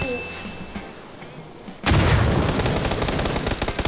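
A Beryl assault rifle opens up in PUBG, cutting in suddenly after a quiet stretch with loud, rapid automatic bursts of close gunfire that keep going to the end.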